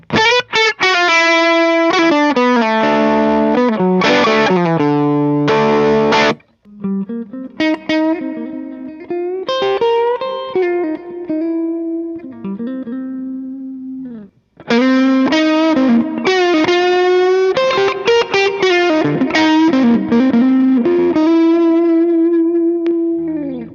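An electric guitar through a Blues Driver overdrive pedal plays bluesy licks and sustained bends, gritty and loud, with a short pause midway before the phrases resume.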